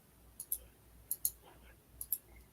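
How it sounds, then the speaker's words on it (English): Three pairs of sharp, quiet clicks come at an even pace during a livestream, with a faint murmur between them and no clear speech. "someone's clicking something"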